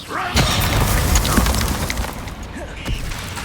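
Descendo spell impact in Hogwarts Legacy lands as a heavy booming crash with crumbling debris, followed by further thuds and rumbling impacts close up, loud throughout.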